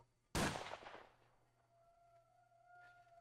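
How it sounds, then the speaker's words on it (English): A single loud gunshot cracks sharply and decays over about a second, followed by a faint lingering tone; no voices are present. "And then you hear another gunshot."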